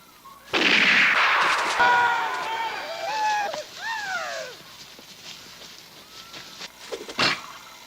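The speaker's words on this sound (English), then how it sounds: "He just shot Jack" A gunshot rings out in a film scene as a sharp loud burst, followed by ringing, whining tones and scattered noise, with a further short crack near the end.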